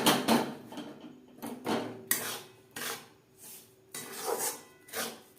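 A spoon scrapes through fried semolina mixed with sugar syrup in a pan, giving a series of about six rhythmic, gritty rasping strokes, close and fairly quiet, with short pauses between them.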